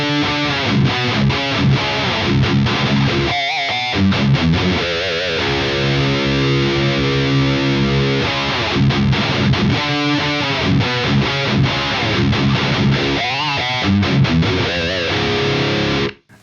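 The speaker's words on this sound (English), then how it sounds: "So this is the GSL crunch channel boosted with SD." An EVH 5150 III 50-watt EL34 amp's GSL crunch channel, boosted with an SD1 pedal, plays distorted electric guitar riffs and sustained chords loudly for several seconds before cutting off.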